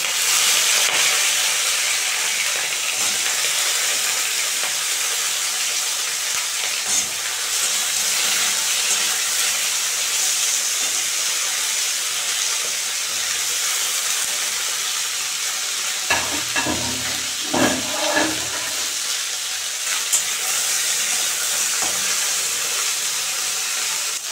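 Okra frying in a pan with sliced green chillies for bhindi posto gives a steady, close sizzle throughout, with a few brief stirring scrapes and clatters near the end. No one talks.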